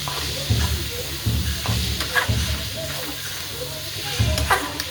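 Cluster bean (guar) curry sizzling in a pan as coriander is added, a steady frying hiss with repeated scraping stir strokes, close and continuous.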